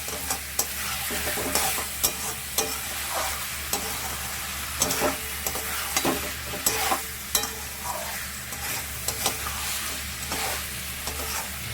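Chicken being cooked down for kosha sizzles in a frying pan while a spatula stirs and scrapes in regular strokes, up close and continuous, with no voices.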